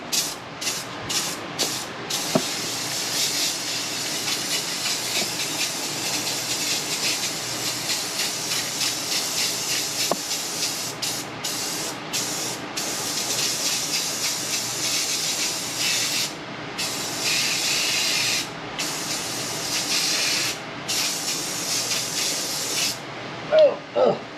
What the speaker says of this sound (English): We're spraying bed liner on.